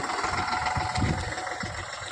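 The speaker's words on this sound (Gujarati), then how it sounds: "આ ટ્રેક્ટર છે" Tractor engine working a farm field while pulling a harrow, a steady close idling rumble with light knocking and rattling bursts, continuous for about two seconds with no voices.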